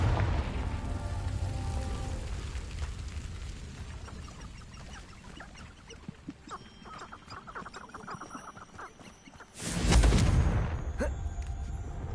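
A Confringo blasting spell from Hogwarts Legacy detonates as one loud, sudden burst near the end, over a steady soft rain-like ambience with faint scattered pops.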